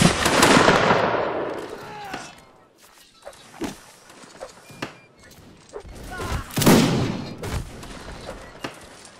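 Musket volleys crack across a line battle in the game Mount & Blade, a dense burst of shots up front, then scattered single reports and a second heavy volley later, with voices talking over the gunfire.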